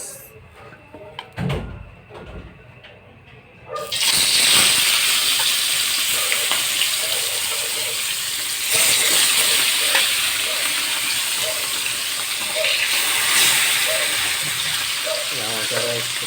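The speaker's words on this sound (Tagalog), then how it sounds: "Fry na po natin yung isda" Fish frying in hot oil bursts into a loud, steady sizzle after a few quiet seconds of handling noises, then hisses continuously to the end with occasional crackles.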